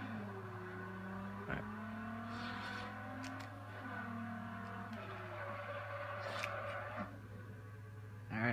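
A Plymouth Cuda's engine drones faintly as the car reverses in the racing game Forza Horizon, a steady low hum whose pitch rises and falls slightly throughout.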